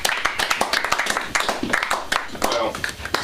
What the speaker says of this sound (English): Clap hard as we get up there.